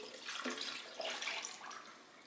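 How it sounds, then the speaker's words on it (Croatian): About a litre of water pours into a soup pot holding ribs and peppercorns, a soft splashing trickle heard faintly and close for a couple of seconds. "I to ću sad još sam naliti vodom"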